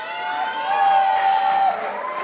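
Audience applause at an evening show honouring a family, a steady wash of clapping from a crowd with a sustained high whistle-like tone running over it.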